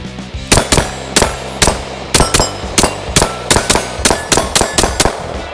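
Rapid bursts of gunfire from a CAA MCK micro conversion kit ring off small steel gong targets, a steady rhythm of about a dozen sharp, loud cracks each followed by a metallic clang.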